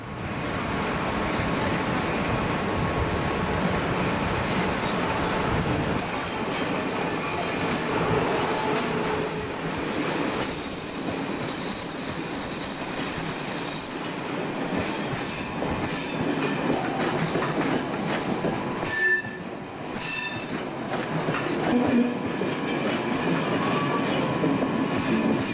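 A train rolls steadily through a German railway station in 1990/91, carriages rumbling loud and close with wheel squeal and clickety-clack, while a whistle-like squeal rings out midway and the noise dips briefly near the end.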